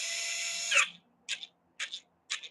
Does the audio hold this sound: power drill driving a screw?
yes